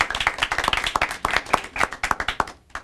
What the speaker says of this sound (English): All right, big round of applause to Yasin.